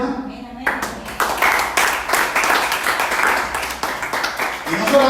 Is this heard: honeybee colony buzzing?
no